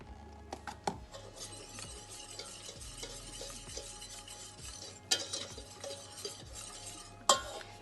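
A utensil stirs flour into melted butter in a pan for a white sauce, scraping and tapping in a steady rhythm with a soft sizzle and a few sharp clinks against the pan.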